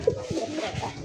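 Pigeons kept for sale give a couple of low, soft coos, close by, against a light background murmur.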